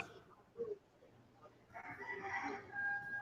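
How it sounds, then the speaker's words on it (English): Rooster crowing faintly in the background, a distant drawn-out call rising in the second half over quiet room tone. "Rooster in the background."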